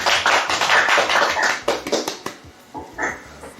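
Applause fills a church wedding service as the congregation acclaims the Lord, loud dense clapping that breaks into a few scattered taps and fades out.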